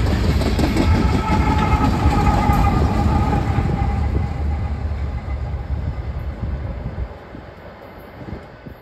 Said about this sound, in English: we find ourselves in the exact same spot, with a southbound coal drag fast approaching